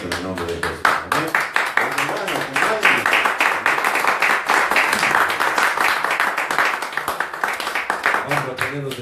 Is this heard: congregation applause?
yes